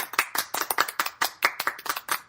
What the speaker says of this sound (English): So let's give Chris a round of applause, guys.